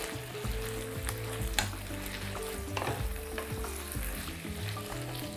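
Sliced green onion fries in a pan while being stirred, a continuous sizzle with scraping stir strokes and a few sharper clicks, close and steady, with no talking.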